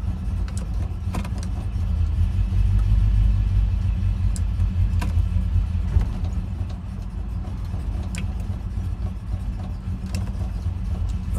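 A Ford Ranchero idles steadily with a low, rumbling engine while the transmission is shifted through its gears, the tone holding nearly constant with faint clicks and no talking.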